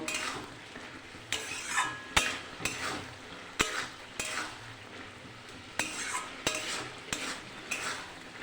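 Cooked mixed-vegetable curry with fried lentil dumplings and coriander leaves, scooped from the pan into a bowl: repeated spoon scrapes and clinks against metal over a soft sizzle, close, in an irregular rhythm of about a dozen strokes.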